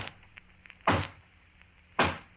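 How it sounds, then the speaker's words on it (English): Two hollow knocks land on a front door, spaced about a second apart, each a single loud dull thud over a quiet background, staged as a horror-show sound effect. "And then there's the hollow knock on the front door."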